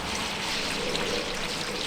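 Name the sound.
water pouring to fill the fish pond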